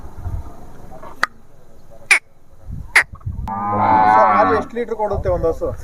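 Hallikar cattle on a farm give out a long, loud, tonal moo that rises and swells near the end, with a few sharp clicks and knocks around it and no talk.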